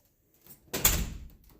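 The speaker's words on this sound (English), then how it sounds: "All right, we go in the front door" A house's front door opens and shuts: a faint creak, then one solid wooden thunk close by, settling into quiet with no voices.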